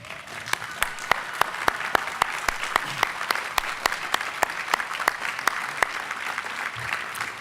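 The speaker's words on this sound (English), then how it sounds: "would previous graduates of Oxford College please stand so that we can applaud you" Steady applause at a 2010 Emory University commencement ceremony as earlier Oxford College graduates stand, a dense crowd clapping continuously for several seconds with a few sharper claps standing out near the microphone.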